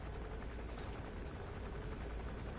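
Helicopter in the Metal Gear Solid 5 video game, a steady faint rotor drone with dense broadband noise that holds unchanged throughout, with no talk.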